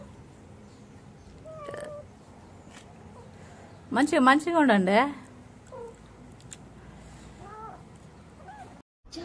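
A mother cat lets out a loud burst of several rising and falling meows in close succession, with quieter single mews before and after as a person talks nearby.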